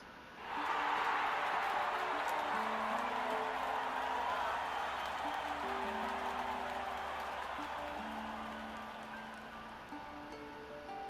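Crowd cheering in the video game Octopath Traveler 2 at a dance contest, a broad steady roar of cheers and applause that swells at once and slowly fades, with faint game music underneath.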